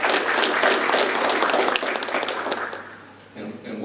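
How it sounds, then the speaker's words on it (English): Audience at a city's State of the City address gives a round of applause, dense clapping that fades out toward the end, with some faint voices underneath. "let's give them a round of applause"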